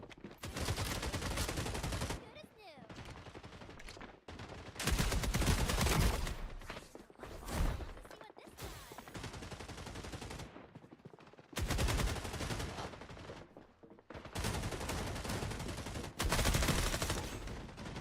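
Submachine-gun fire in Rainbow Six Siege X, bursts of rapid automatic shots in several loud clusters separated by brief quieter gaps.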